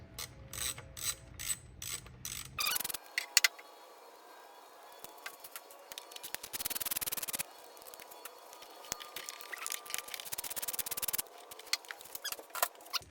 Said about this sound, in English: So it's just 1 bolt, just a 10mm bolt, crack it loose.